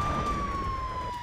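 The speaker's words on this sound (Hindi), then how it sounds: "सुबह करीब 6 बजे कीव में सायरन बजने शुरू हो गए थे।" An air raid siren sounds over Kyiv, a single sustained wailing tone that sags slightly in pitch, heard at a distance over a low rumble of background noise in a very brief moment.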